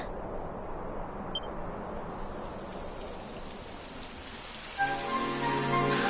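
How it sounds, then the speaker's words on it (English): Steady rain patters on a surface in the video game Dragon Quest XI S, a dense hiss of falling drops; a few seconds in, a tonal hum joins the rain. "It would have to go and start raining, wouldn't it?"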